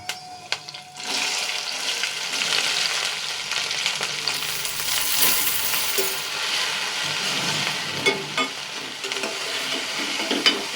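Okra (ladies' finger) frying and being stirred in a pan in a home kitchen, a continuous close sizzle broken by scraping stirs and occasional metallic clinks.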